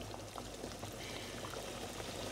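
Mushroom bolognese sauce bubbling at a boil in a pot, a steady close bubbling and liquid churning with no talk over it.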